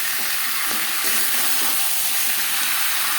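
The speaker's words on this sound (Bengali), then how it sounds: "আলুর সাথে আদা ও কাঁচা লঙ্কা বাটা বেশ ভালো করে মিক্স করে দেবো।" Potatoes being stirred with ginger paste and green chili paste in a hot pan give off a steady, close sizzling hiss, with faint scraping of the mixing underneath and no voices.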